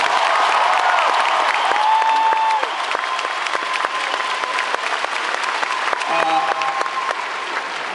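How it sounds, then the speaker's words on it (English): An arena crowd applauding at a basketball championship ring ceremony, loud sustained clapping and cheering that eases slightly partway through, with a voice over the public address audible underneath. "So let's give them a round of applause."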